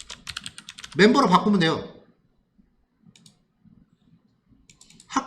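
Computer keyboard keys clicking quickly in a short burst, then scattered faint taps and clicks, recorded close in a quiet room while someone speaks Korean.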